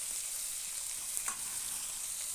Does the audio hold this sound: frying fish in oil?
yes